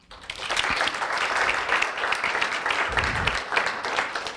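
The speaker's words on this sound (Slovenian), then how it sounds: "Tudi zanjen aplavz." Audience applause for a student award winner at a university award ceremony, a dense, steady wash of clapping filling the hall for several seconds.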